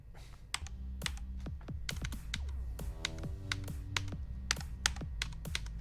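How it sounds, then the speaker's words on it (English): Fast typing on an RGB computer keyboard, a dense run of crisp key clicks and taps at close range with no talking. "Time for another RGB keyboard!"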